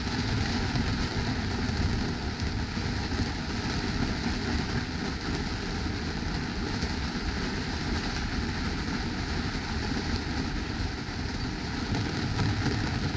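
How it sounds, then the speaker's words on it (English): Heavy rain pours steadily on an Island Packet 38 sailboat, heard from inside the cabin as a dense, continuous wash of drumming and hiss with no breaks. "Kind of sucks when it's raining this hard"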